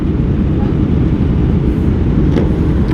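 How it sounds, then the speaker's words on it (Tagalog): Dense, steady low roar of heavy road traffic heard from a Honda CB650R during a group motorcycle thanksgiving ride, engines rumbling continuously up close with no clear breaks. "Sobrang traffic"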